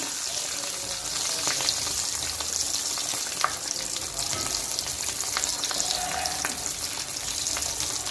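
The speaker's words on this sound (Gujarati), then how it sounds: "હવે આપણે બીજી બાજુ એને પલટાઈ લઈએ અને ફાસ્ટ ગેસ પર જ તરવાનું છે" A bread cutlet fries in a pan over a high flame, giving a loud, continuous sizzle with scattered crackles and pops, close up and steady throughout.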